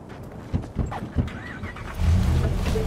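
A car driven in Cyberpunk 2077, its engine a steady low rumble that swells louder about two-thirds of the way through, with a few thumps and faint background sounds early on.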